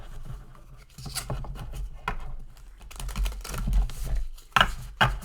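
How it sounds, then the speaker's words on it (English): A deck of tarot cards gets a casino shuffle, giving close, soft riffling and patting card sounds in uneven bursts, with light taps and a few louder flutters near the end. "I'm gonna do one more casino shuffle"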